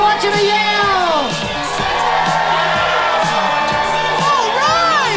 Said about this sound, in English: If you're from Los Angeles, I want you to yell.